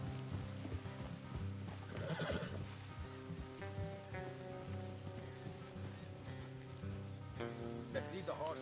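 Horses in a Red Dead Redemption 2 game scene whinny and clip-clop along a road, with rain falling steadily and a voice briefly heard over the continuous, fairly quiet soundscape.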